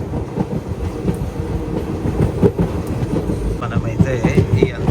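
The Chennai Mangalore Mail, train 12602, rolls along with a steady loud rumble and rhythmic wheel clatter, growing rougher and more clanking toward the end.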